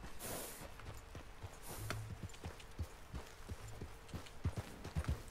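Faint, uneven hoof clops of a horse walking in Red Dead Redemption, scattered irregular knocks over a quiet background with a brief rustling swish at the start.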